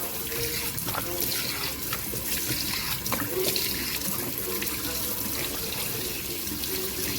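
Water runs steadily from a tap while a face is rinsed clean of tea tree face wash, a constant splashing hiss with small irregular spatters throughout, close and moderately quiet.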